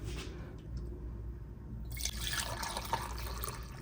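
Milk pours into a mug for hot chocolate as a soft, close liquid trickle that swells into a fuller splashing fill midway and keeps running to the end.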